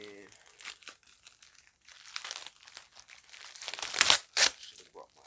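Crinkly plastic packaging of a cotton face mask rustling and tearing close by, with a few sharper crunches toward the end as the wrapper is pulled open.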